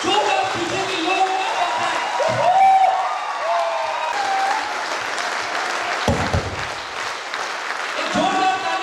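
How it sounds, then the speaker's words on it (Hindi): Loud, sustained applause from an audience at an event as a guest is called up, dense clapping filling the whole stretch with crowd noise and a voice speaking over it. "जोरदार तालियों के साथ मैं बुलाना चाहूंगा"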